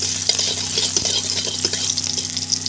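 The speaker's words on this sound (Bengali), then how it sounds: "কটা পেঁয়াজ কুচিয়ে দেবো, ভালো করে ভাজবো।" Chopped onions fry in oil in a pan for a mushroom sour curry. A loud, continuous sizzle fills the whole stretch, with occasional scrapes and taps from stirring up close.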